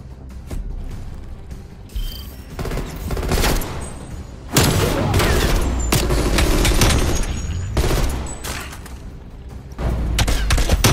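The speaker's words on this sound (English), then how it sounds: "I switched to the submachine gun and I thought it was fully automatic" Rapid bursts of submachine gun fire in a first-person shooter match, loud and close, with sharp repeated volleys and booming impacts spread across the clip.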